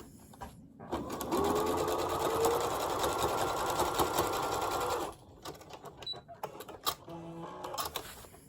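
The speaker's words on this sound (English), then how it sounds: "I'm going to stitch along this first line here." Sewing machine stitching a straight line along fabric while making double folded bias tape, a steady close whirring run of about four seconds that stops abruptly, followed by quieter handling noises.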